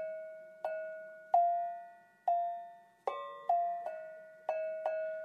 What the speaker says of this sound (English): So let's start with Englehart bells.